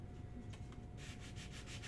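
Sanding wood putty off the wooden shooter lane of a pinball machine, a faint scratchy rubbing that becomes a quick series of rhythmic abrasive strokes in the second half, close and quiet.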